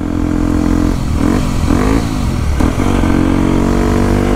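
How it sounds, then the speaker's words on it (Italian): A motorcycle engine runs loud and close with a steady low drone, its pitch rising and dipping through a few short revs before settling back to idle. "La moto non va su."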